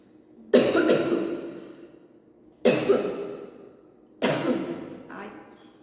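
Three separate bursts of harsh coughing, each sharp onset trailing off over about a second, spaced a couple of seconds apart, close and fairly loud with no talk.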